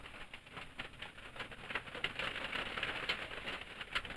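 Steady rain from a typhoon hissing and pattering on a surface, a constant wash of noise with no voices.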